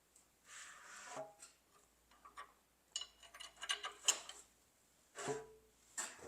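Ford 302 V8 engine turned over by hand with a wrench on the crankshaft bolt, giving quiet, irregular metallic clicks, ratcheting ticks and soft mechanical clunks in short bursts, close and faint.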